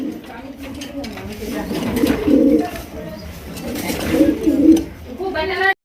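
Giribaz pigeons coo in soft, throaty bursts, close and steady, with some background murmur of talk at a pigeon sale.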